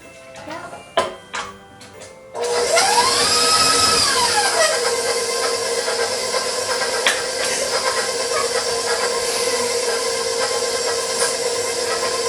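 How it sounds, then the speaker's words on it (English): An electric stand mixer creaming ingredients at a farm show kitchen demonstration starts up after a few clunks, then whirs loud and steady with a brief rising pitch as it speeds up, running continuously to the end. "we're gonna put that in the mixer. And what did you say? We're gonna cream it?"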